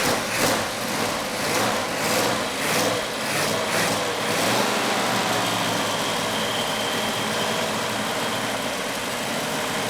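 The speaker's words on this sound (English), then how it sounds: "The engine fired up really nice." A Hemi Plymouth Barracuda engine runs at a steady, busy idle after starting, with a constant mechanical whir and rattle, close and fairly loud, pulsing slightly at first before evening out.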